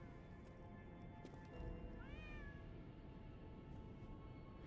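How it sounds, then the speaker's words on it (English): A cat meows inside the video game Lies of P, a single rising, wavering call over a steady low game ambience, fairly clear but not loud. "You can pet the cat!"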